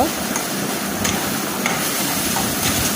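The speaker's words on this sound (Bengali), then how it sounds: "এখন আমি একটু নাড়াচাড়া করে সবগুলো উপকরণ একসঙ্গে মিশিয়ে নিব।" A ginger, garlic and cumin paste is stirred in a frying pan while pangas fish cooks, giving a steady sizzle with soft scraping strokes and faint taps throughout.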